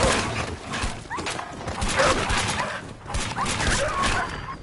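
A dog in the video game Fallout 4 yelps and whimpers in short, sharp bursts over a busy backdrop of game combat noise, sounding near and fairly loud.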